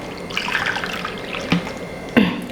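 Water is poured into a pressure cooker while making chicken biryani: a faint trickling, splashing stream with a couple of sharper splashes near the end, and no speech.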